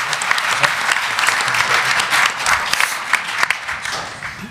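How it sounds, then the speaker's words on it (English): An audience at a Madison Avenue advertising upfront event breaks into loud, steady applause that fills the room for several seconds without a pause. "a round of applause for our buyers."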